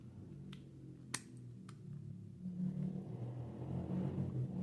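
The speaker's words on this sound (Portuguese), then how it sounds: "Olha a moto." A motorcycle passes by, its low engine rumble swelling over the last couple of seconds and growing louder and nearer, after a few faint clicks against a steady background hum.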